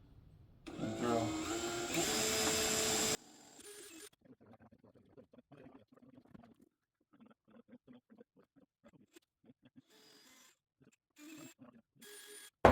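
A drill bores a hole into a tobacco pipe, giving a loud, steady grinding whine for about two seconds, then dropping to quieter rustling handling noises and faint intermittent scraping.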